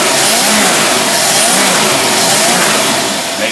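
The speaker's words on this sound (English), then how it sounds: "We're going to rev it up a few times." A car engine fitted with a Rochester single-barrel carburetor is revved, giving a loud, continuous, dense roar that stays steady and near, then eases slightly at the end. No talking is heard.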